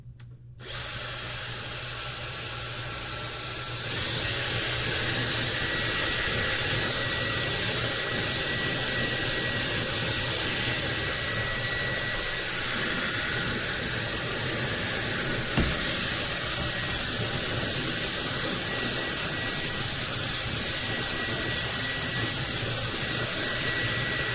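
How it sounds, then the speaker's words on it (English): A Dyson Airwrap hair dryer blows steadily and loudly at close range, a constant whooshing roar that jumps up in strength after a few seconds and holds without pause. "I have to say, I really like this hairdryer."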